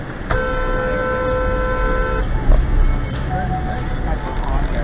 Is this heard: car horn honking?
yes